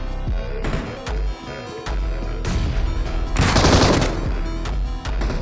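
Rapid bursts of automatic gunfire in the mobile shooter BGMI, close and loud, with several separate volleys and a dense, sustained stretch of shots near the middle.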